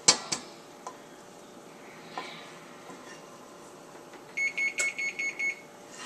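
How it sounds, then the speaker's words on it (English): Kitchen oven preheating to 350, a quick series of six sharp electronic beeps near the end after a few faint clatters of dishes, no talking. "And that's the sound of my oven."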